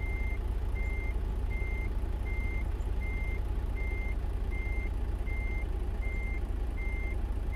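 Truck reversing alarm in the video game American Truck Simulator, a steady series of evenly spaced beeps repeating over a constant low engine rumble, clear and moderately loud, with no talking.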